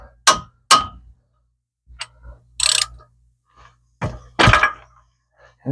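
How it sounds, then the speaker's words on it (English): Sharp metallic hammer strikes ring out on a brake part of a 2003 Dodge Ram during a front brake job. About half a dozen irregular, close hits are separated by quiet gaps. "take a hammer and hit it like this"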